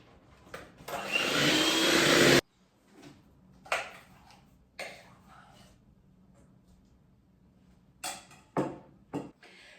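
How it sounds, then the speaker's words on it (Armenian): A loud electric mixer whipping cream whirs steadily for a couple of seconds, then stops, followed by scattered clinks and brief short bursts of motor noise as boiled custard cream is added a spoonful at a time. "մեկ գթալ ավելացնելով հարելու ենք"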